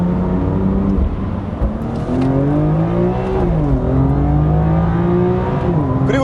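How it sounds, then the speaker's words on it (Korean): A BMW M2's 3.0-litre twin-turbo engine revs up and down in steady sweeps, loud and close, with wastegate whoosh mixed into the rising and falling engine note, and no one talking. "이게 약간 그 웨이스트게이트 열리는 소리랑도 좀 섞여가지고 나는데"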